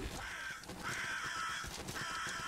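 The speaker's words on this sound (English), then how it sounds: "Bird, bird, bird." Crows caw repeatedly in the video game Salt and Sanctuary, three loud, harsh calls in a steady rhythm with no one talking.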